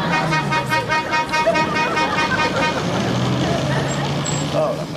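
A car passing on a road in a sitcom scene, a busy motor rumble with a horn toot near the start amid traffic noise.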